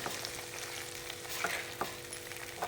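Masala paste fries and sizzles in oil while being stirred in a pan for a paneer dish, a steady close crackle with occasional scraping strokes of the spoon and no talk.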